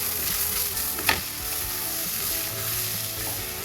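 Turmeric, coriander, chili and black pepper powders sizzle steadily in a pan for chicken curry while being stirred, with a soft scrape of the spoon partway through over a constant, close frying hiss.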